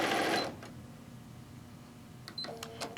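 A sewing machine stitches a pillowcase seam in a brief burst of fast mechanical whirring, then falls quiet with faint clicks before starting up again at the end.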